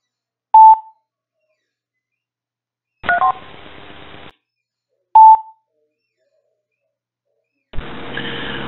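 Two short electronic beeps separated by a pause, each followed by a burst of static-like hiss, with silence between; clean and close.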